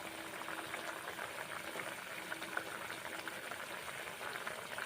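Dal lentils simmering in a pot, a soft steady bubbling that stays quiet and constant throughout, with no talking.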